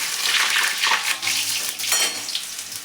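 Finely crushed garlic and ginger hitting hot oil with asafoetida in a pan, a loud continuous sizzle with stirring swishes and scrapes, close by and without speech.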